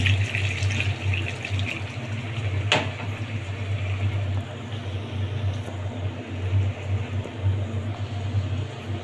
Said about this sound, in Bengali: তরকারিটা কষানোর জন্য একটু আমি পানি দিয়ে দেবো সামান্য পানি